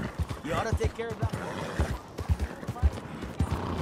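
Horse hooves clip-clop steadily in Red Dead Redemption II, with a brief whinny from a tired horse, all mixed under ongoing talk and game sounds.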